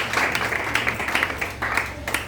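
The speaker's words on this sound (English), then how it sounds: "Clap for them, clap for them." An audience at a conference claps in uneven, rhythmic bursts, moderately loud and fairly close, lasting only a couple of seconds.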